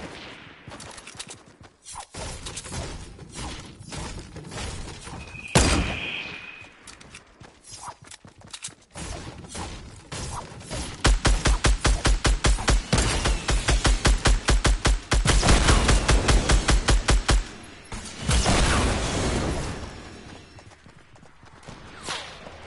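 Gunfire in the video game Fortnite, scattered single shots followed by a long rapid burst of automatic fire, loud and close, then tapering off amid other game noise.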